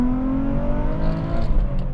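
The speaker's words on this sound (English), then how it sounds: "let's take the 350Z around this Mirigama track and give it a little stick" A Nissan 350Z is driven hard around the Mirigama race track. Its engine drones loud and steady from inside the car, with the pitch shifting slightly as it pulls.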